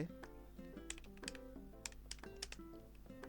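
HTML code being typed on a computer keyboard, quick irregular key clicks at close range under a faint background hum, with no voice.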